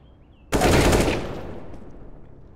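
A Kalash rifle fires in a video game: a sudden loud burst of rapid gunfire that cuts in sharply and then fades into a lingering echoing tail.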